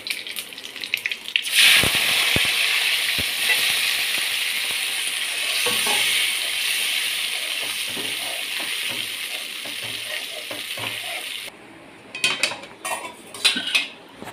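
Rice flour batter mixed with sour buttermilk, cumin and asafoetida is poured into a hot pan, giving a steady wet sizzling hiss with scattered clinks of a metal utensil against the pan, fading to quieter scrapes near the end.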